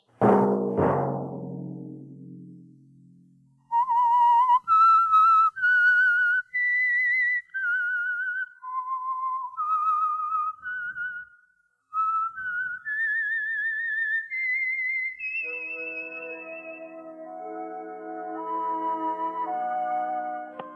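A lone whistler carries a bright, melodic radio theme tune, sustained notes rising and falling, after a brief low rumble at the start; orchestral music swells in near the end.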